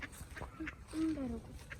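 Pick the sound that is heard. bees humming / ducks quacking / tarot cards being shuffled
ducks quacking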